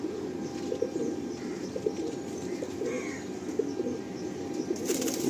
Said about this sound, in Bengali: খুব সুন্দর একটা মানে হেডশেপের পায়রা